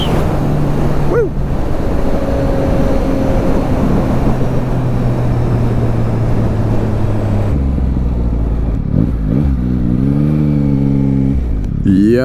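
A 2021 Yamaha MT-09 SP motorcycle accelerates hard, its engine revving steadily through the gears with loud wind rush, then shifting and rising again near the end.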